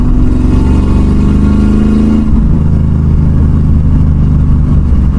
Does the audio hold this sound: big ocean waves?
no